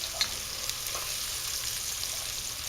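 Onions fry in a pan for Sicilian-style Italian sauce, a soft, steady sizzle with faint crackles, fairly quiet and close, with no talking.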